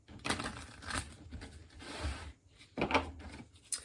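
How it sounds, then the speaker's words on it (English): Mermaid Tarot cards are shuffled by hand in close, quiet bursts of rubbing and riffling, with short pauses between passes. "From the Mermaid Tarot, I'm going to do a shuffle this way."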